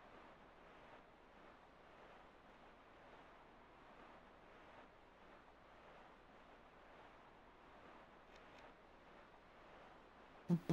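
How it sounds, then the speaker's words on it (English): Gentle sea waves wash continuously in The Wind Waker, a video game, with a steady soft surf and breezy hiss at low volume, alone without voices, until a brief loud bump right at the end. "Just the sounds of the sea."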